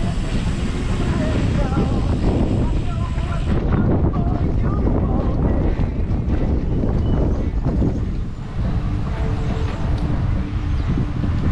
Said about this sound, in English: Shows you how windy it's been today.